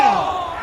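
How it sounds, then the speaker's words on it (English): A cricket crowd roars and cheers in a stadium after a big appeal, a sustained dense wall of voices that stays loud throughout. "Will you listen to the crowd? They are loving it."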